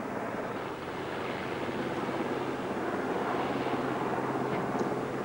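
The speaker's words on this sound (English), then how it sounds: "the Sea Kings and Wessex helicopters lost no time in bringing in a lot more." Sea King and Wessex helicopters fly in supplies during the 1982 Falklands landings, a steady loud rotor and engine drone with a low hum that holds throughout, no voices.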